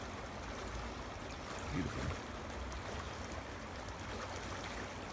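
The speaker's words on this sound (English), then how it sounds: "And right now it's this river." Steady broadband wash of water from a flowing river outdoors, continuous and moderately loud, with a single brief spoken word partway through.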